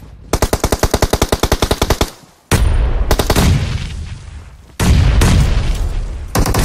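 Gunfire and grenade explosions in a mobile battle royale shooter: a rapid burst of about fifteen automatic shots, then two loud blasts whose booms decay over a second or more, all close and loud with no talking.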